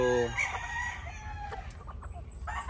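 White Kelso pullets and other chickens clucking, with a rooster crowing near at the start over a steady farmyard background.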